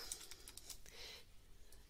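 Typing on a computer keyboard while setting a default font in a Google Doc: a quick burst of faint, close key clicks, soft and irregular, with no voices.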